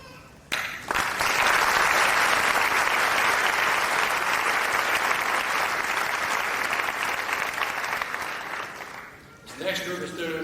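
Loud, sustained audience applause at a 2003 high school graduation ceremony, rising sharply and holding for about nine seconds before tapering, with a voice briefly audible at the end.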